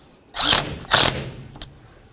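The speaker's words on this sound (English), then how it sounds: "Tighten up your 10mm mounting nut." A ratchet tightens a 10mm mounting nut on a 2010-2013 Ford Transit Connect, two quick close bursts of clicking followed by a faint short tick, with no talking.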